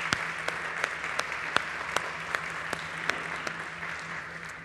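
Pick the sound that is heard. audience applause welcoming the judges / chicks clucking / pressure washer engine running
audience applause welcoming the judges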